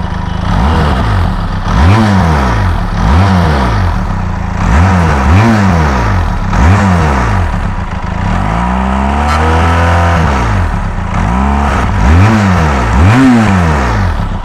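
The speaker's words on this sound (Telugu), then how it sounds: "ఇప్పుడు బైక్ని కొంచెం రెవ్ చేసి కొంచెం రెవ్ చేసి మ్యాక్స్ సౌండ్ వినిపిస్తుంది." A 2021 BS6 Benelli TRK 502X motorcycle engine revved repeatedly toward full, loud close-up blips rising and falling in a steady rhythm with one longer sustained rev midway.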